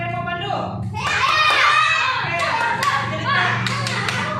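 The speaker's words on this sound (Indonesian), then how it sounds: "Tepuk tangan dulu untuk kita semua" A class of children clap their hands together in a lively burst, with kids' voices and chatter mixed through the claps.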